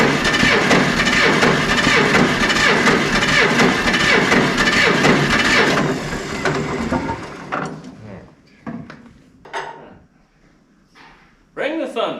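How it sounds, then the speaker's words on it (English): A John Deere 630 tractor, a barn find being revived, cranks over with a loud, dense rumbling churn for about six seconds, then breaks into sputtering bursts and pauses before a final surge. "Here we go, cranking."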